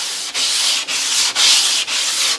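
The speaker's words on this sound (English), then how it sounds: "a little bit of hand sanding is really going to bring that shape in" Sandpaper rubs by hand along the edge of a wooden skateboard deck in five steady back-and-forth strokes, a close, bright scratchy hiss with short pauses between passes.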